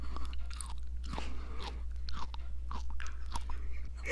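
Close, crunchy chewing and biting of food during a casual mukbang of Samyang noodles, honeycomb and aloe vera, with repeated bites over a low steady hum and no talk.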